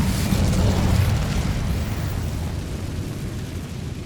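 Incendio fire spell cast in Hogwarts Legacy, a loud roaring whoosh of flame bursting at once and slowly easing off over a few seconds, with no voices.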